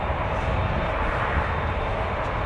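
An American Airlines jet at Vancouver airport gives a steady, loud broadband engine roar that holds constant throughout, with no voices over it.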